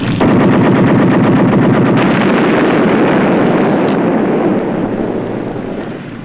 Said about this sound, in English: Floating mine. We're going to explode it.